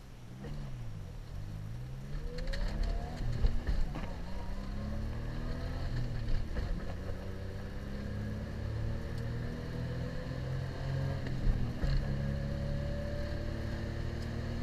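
A 1992 Suzuki Cappuccino drives steadily through a slow U-turn, its small engine humming with rising and falling revs over continuous road and wind noise, close and fairly loud.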